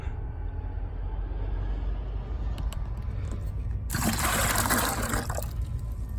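Water gushes and trickles steadily as it is flushed through a clogged Jeep Wrangler heater core into a bucket, with a louder, rushing surge partway through.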